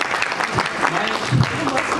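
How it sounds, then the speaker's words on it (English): An audience at an HR management panel discussion on competencies and culture claps steadily for about two seconds, dense and even, with murmured voices mixed in. "you are clapping for him?"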